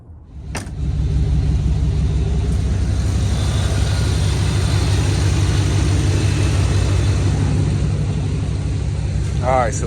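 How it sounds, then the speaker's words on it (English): A blue truck engine cranks and catches with a short burst, then settles into a loud, steady low rumbling idle that holds for the rest of the span, close by and without voices over it. "Damn, I love how that blue truck sounds."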